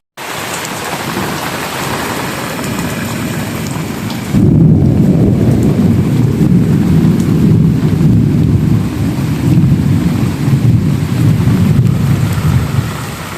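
A monsoon storm in a Konkan paddy-farming area brings heavy rain and strong wind thrashing loudly and steadily close by, the roar swelling noticeably after a few seconds and holding with a continuous gusty rush.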